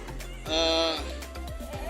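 A single wavering sheep bleat, loud and close, at a livestock market amid background crowd murmur and talk.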